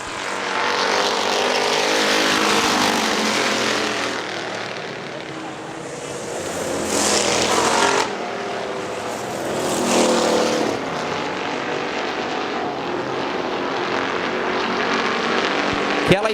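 At Hartford Speedway Park, factory stock race cars hold a steady, loud engine drone that rises and falls as they sweep by, with a commentator speaking over the racing.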